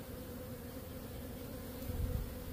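Honey bees buzzing steadily on a Nicot queen rearing frame, a close continuous hum that grows slightly louder toward the end, with no talking.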